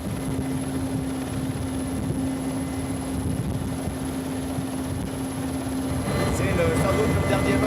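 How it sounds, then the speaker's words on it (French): Squadron of combat helicopters flying near the Mali border, heard as a steady, loud rotor and engine drone that fills the whole stretch, with a sharper rise in noise toward the end. "une escadrille d'hélicoptères de combat part à la rencontre des derniers militaires de la force Barkhane"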